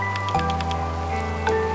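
Rain in the video game A Space For The Unbound, heard as soft scattered droplet patter over a steady low hum and sustained background tones, without any talking.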